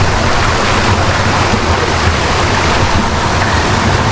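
Water pours constantly into a rock pool at the foot of a waterfall in Bali, a dense, loud, unbroken roar heard close up.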